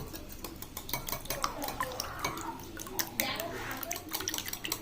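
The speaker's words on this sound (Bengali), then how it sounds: "চিনি এটা ভালো করে আগে গুলিয়ে নেব" A spoon stirs sugar into three eggs in a bowl, giving quick repeated clinks and scrapes against the bowl while someone talks over the mixing.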